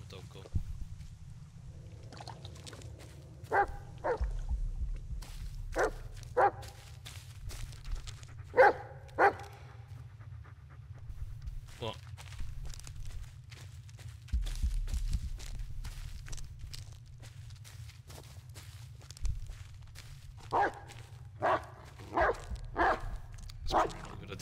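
A dog in the Blair Witch video game gives a series of short, sharp barks at irregular intervals over a low, steady ambient rumble, with soft footstep-like sounds in between.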